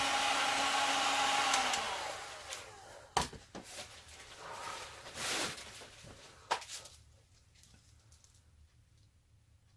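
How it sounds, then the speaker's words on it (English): A heat gun blows a steady airy hiss over a fresh resin painting for the first couple of seconds, then cuts off, leaving scattered close clicks and taps of handling in a quiet room. "when you put the heat gun too close to the tape, it kind of comes unstuck"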